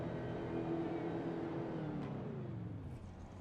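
V8 Supercars race cars lapping the Loudon oval in a live race, a steady loud engine drone with shifting pitch, one car's tone bending down as it passes, and no voices over it.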